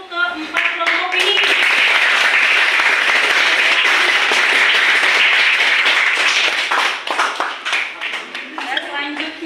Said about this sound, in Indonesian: berikan tepuk tangan untuk keempat kelompok ini